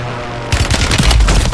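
A sudden burst of rapid close gunfire from the FJX-Horus in Warzone, a wall-bang spray cutting in after a quiet moment and continuing as loud, tightly spaced shots.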